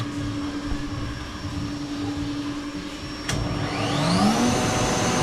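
A valve seat cutting machine runs on a motorcycle cylinder head, a fast steady motorised whine with a tonal hum, then a rising pitch sweep as the motor spins up, loud and close with no voices.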